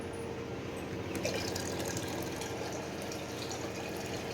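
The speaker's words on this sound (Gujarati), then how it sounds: "બે એક કિટલો આ પાણીનો ભર્યો ને એક આ ભર્યો કિટલો ભરી દીધો" Water runs into a kettle as it is filled, a steady faint trickling and splashing stream that continues unbroken throughout, with no talk over it.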